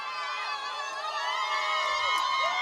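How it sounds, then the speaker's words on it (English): A high school football crowd cheering loudly in a stadium, dense shouting and whoops from many voices including children's, sustained across the clip with rising excited yells near the end. "Crowd erupts."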